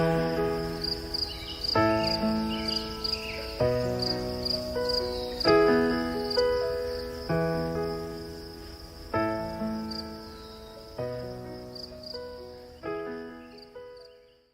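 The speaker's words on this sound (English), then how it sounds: "You can hear that sound. Crickets in the background." Crickets chirp in a steady high-pitched trill beneath repeating music chords that strike every couple of seconds.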